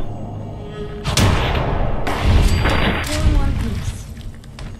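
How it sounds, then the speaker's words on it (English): An explosion in the video game Fallout 4 near a car, heavy booming rumble with bursts and thuds across several seconds under a voice talking. "hope that explosion didn't start the car"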